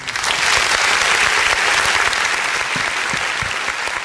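Sustained audience applause fills the space, a dense, even wash of clapping from a large crowd that stays loud and steady throughout, with scattered sharper claps standing out.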